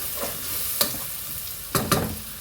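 Onions frying with salt in a pan for a Punjabi-style palak paneer, a steady close sizzle broken by a few scraping stirs of a spoon, with no talking.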